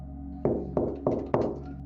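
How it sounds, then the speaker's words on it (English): Four firm knocks on a door, evenly spaced and fairly close, sounding alone over a low steady background hum. "There was a knock at the door."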